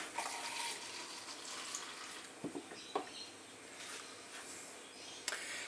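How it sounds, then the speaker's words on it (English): Tap water runs steadily into a plastic cup, a soft, close, continuous splashing stream with a few small clicks and knocks, no talking. "Take a plastic cup, fill it with some water."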